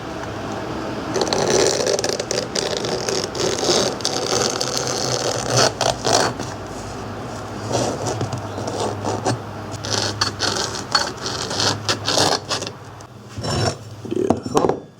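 A knife blade ground on a belt grinder in a bladesmith's shop for a catfish chopper, with a loud continuous rasping grind that rises and falls in pressure over the whole clip, interrupted by short pauses.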